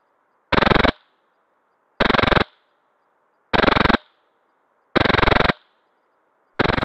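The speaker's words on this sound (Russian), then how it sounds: "Теперь перейдем непосредственно к ощущениям по поводу стрельбы с Inferno Gen 2." Five sharp, loud bursts from an Inferno Gen2 HPA airsoft gun, each a rapid-fire volley lasting about half a second, spaced evenly with quiet gaps between and no talking.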